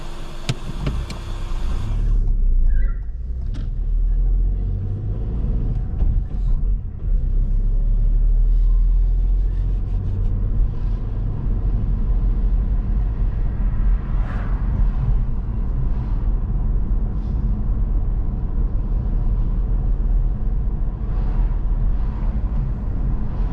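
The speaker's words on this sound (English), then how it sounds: "And when you're ready, carry on driving" Car cabin during a driving test, a steady low engine and road rumble from inside as the vehicle pulls away and drives on, with no talking.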